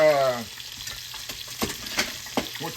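Trout sautés in a skillet, giving a steady close sizzle with occasional stirring scrapes after a short burst of voice at the start.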